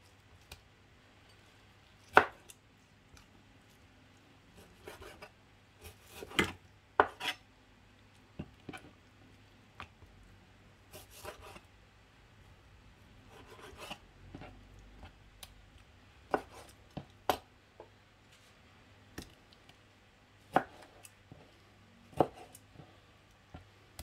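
A knife cutting ling fish on a board, scattered sharp chops and taps at an uneven pace over a quiet kitchen background, close and distinct.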